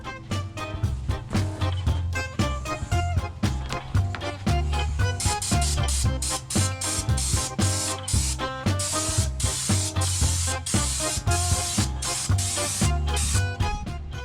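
Underbody Schutz coating sprays into a car wheel arch over a rusty sill repair, a loud steady aerosol hiss broken by short bursts and pauses, close up with no talking.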